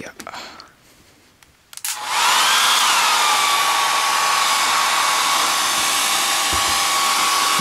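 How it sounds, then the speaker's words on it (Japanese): A hair dryer runs close up while heating a PlayStation 3 console to repair its yellow light of death fault. It switches on about two seconds in and then drones loudly and steadily, with faint talk before it starts. "ドライヤー修理ですね、今回は。"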